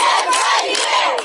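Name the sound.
angry crowd of protesting women in Dagestan, news footage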